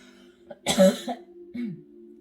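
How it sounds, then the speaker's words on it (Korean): A single harsh cough burst, close and fairly loud, followed by a brief throat-clearing sound, with quiet pauses around it. "기침이 나왔어요."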